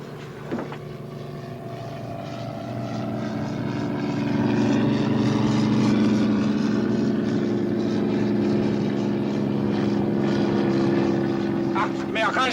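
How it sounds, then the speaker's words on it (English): An American propeller aircraft passes overhead in a war film, its droning engine swelling from faint to loud and holding steady, while a voice shouts briefly near the end. "Amerikanische Flugzeug!"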